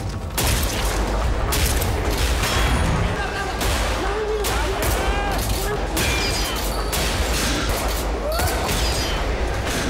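Soldiers of an assault squad open fire in an action film about an undercover cop among the yakuza: a loud, dense barrage of gunshots and booming blasts runs without pause through the whole stretch, with voices mixed in.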